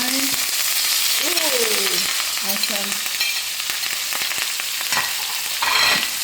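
Garlic and fresh thyme sizzle in a hot pan while a steak cooks, a loud, continuous crackling fry with brief stirring noises and a short exclamation from a voice near the start.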